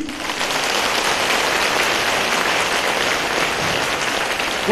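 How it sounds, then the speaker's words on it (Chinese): A crowd at a 2012 Buddhist dharma assembly in Singapore applauds steadily, a dense, even wash of many hands clapping throughout, with no voices over it until a brief sound at the very end. "你们鼓掌"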